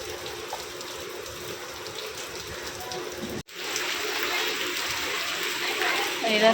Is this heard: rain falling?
yes